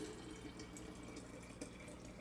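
Tap water running into a container to soak beans overnight, a steady close splashing and gurgling stream, quiet and continuous, with no voices.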